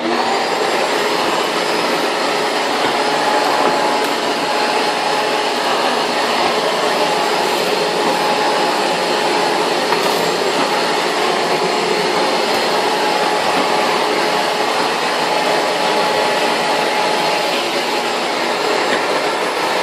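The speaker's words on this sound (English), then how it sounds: "So we'll finish up with the Shop-Vac nozzle." A Shop-Vac vacuum cleaner with its nozzle attached runs continuously and loudly at close range, a steady roaring whine that stays even throughout without speech.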